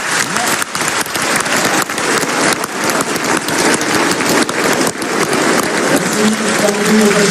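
A large audience at the Cameroonian Ballon d'Or ceremony in Yaoundé's Palais des Congrès applauds loudly and continuously, a thick wash of clapping that stays strong throughout.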